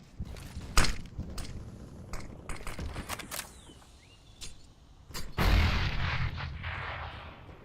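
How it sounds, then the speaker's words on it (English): Two grenades explode almost together in a Counter-Strike: Global Offensive esports match, a sharp burst of blasts after scattered gunshots, ending in a deeper rumbling boom. "Nade's going down at pretty much the exact same time."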